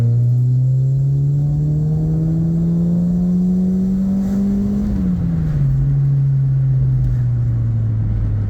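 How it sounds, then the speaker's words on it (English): A Peugeot 106 with the 1.1 engine accelerates hard in second gear. The loud, close engine note climbs steadily in pitch for about five seconds, then drops sharply and settles into a lower drone. "That was only second. Just a little blast in second."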